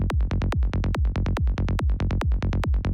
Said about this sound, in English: So yeah, just together our kick and bass sounds like this.